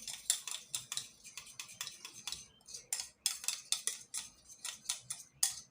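A spoon clinks and scrapes rapidly against a small bowl while mixing egg yolk with a teaspoon of honey, a close, steady run of bright metallic taps with no talking.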